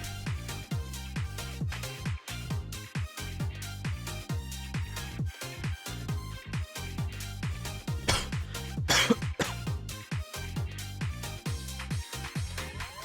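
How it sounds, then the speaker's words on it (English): A person with a lingering cough hacks repeatedly in rough, broadband bursts that come close together and stay loud for the whole stretch, with no clear speech between them. "My cough is still there."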